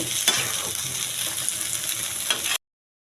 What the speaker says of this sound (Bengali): এখন একটু নাড়ায় মিশিয়ে দিব সব কিছু।